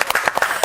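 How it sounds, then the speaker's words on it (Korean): Students in a Bible study class clap together for classmates, a quick burst of several distinct claps at close range, uneven in rhythm and fairly loud. "우리 다 같이 박수 한번"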